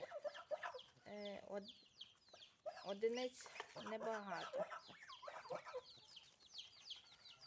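Chicks, ducklings and hens cluck and peep in quick, scattered bursts nearby in a Ukrainian village yard, with someone speaking briefly over them.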